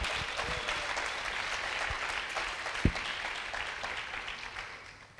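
A church congregation applauding during a bilingual Spanish-Portuguese sermon, a steady wash of clapping at moderate distance that slowly fades toward the end, with no talk over it.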